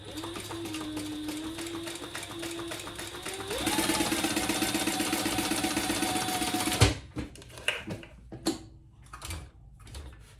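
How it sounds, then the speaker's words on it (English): A sewing machine bastes the top edge of a tote bag, whirring steadily close by, then speeding up into a higher, faster run before stopping abruptly, followed by a few clicks and handling knocks. "let's just baste this top closed. Eighth of an inch."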